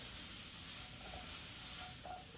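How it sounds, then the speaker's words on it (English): Mushrooms seasoned with steak seasoning brown in a hot pan, giving a soft, steady sizzle and hiss with faint stirring. "while our mushrooms are browning"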